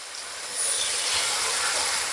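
Potatoes frying in hot oil in a pan for Chinese-style chicken fried rice, a broad hissing sizzle that jumps louder partway through and then holds steady, close and alone.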